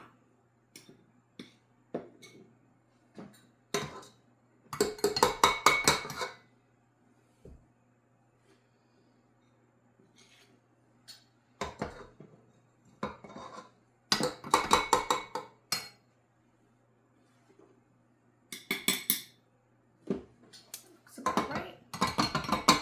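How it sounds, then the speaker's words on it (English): Dishes and utensils clink and clatter in bursts while flour goes into snickerdoodle dough, sharp metallic taps and scraping clusters separated by quiet gaps, close by with no talk. "So now we need to add 2 3/4 cups of flour."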